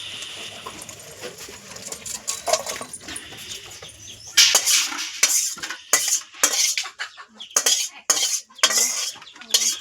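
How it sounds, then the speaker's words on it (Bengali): Pui shak greens and fish curry get stirred in a pan, a utensil clinking and scraping against the metal in irregular bursts, louder in the second half. "এটা নেড়ে নেবো ভালো করে, দিয়ে নাবিয়ে দেবো"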